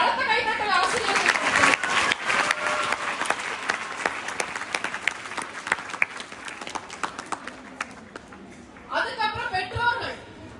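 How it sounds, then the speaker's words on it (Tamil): An audience at a government school event applauds the teachers, a long run of crisp, scattered hand claps at moderate level that thins out, with brief voices breaking in near the end. "ஒரு பலத்த கைத்தட்டல் ஆசிரியர்கள்"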